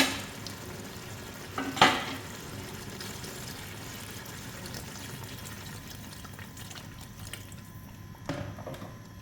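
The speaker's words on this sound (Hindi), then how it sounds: "अभी हमने बॉयल किया हुआ पानी रखा हुआ है साइड पे, तकरीबन 3 गिलास के बराबर, वो अभी हांडी में ऐड करेंगे" Boiled water, about three glasses, is added to a cooking pot of aloo gosht. A short splash comes early, followed by a low simmering, liquid background and a second small splash near the end.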